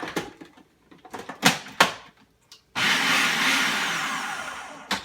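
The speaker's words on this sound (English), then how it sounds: "we make it in the food processor, so it's very simple" A few knocks and clunks, then a food processor starts up and runs steadily with a loud whirring roar while mixing flour and salt for homemade pasta dough, no talk.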